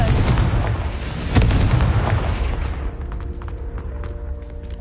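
A Confringo spell explosion in Hogwarts Legacy bursts with a loud, booming blast that rolls into a lingering rumble, followed by sharp crackling pops as the fiery impact fades.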